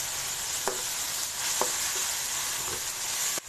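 Vegetables being stirred in a hot pan with soy sauce and vinegar give a continuous bright hiss, broken by a few soft taps of a spoon against the pan.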